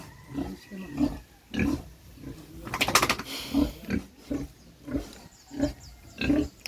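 Pigs grunting in a series of short, rhythmic snorts and grunts at close range, with a brief noisy scuffle midway and no talk over them.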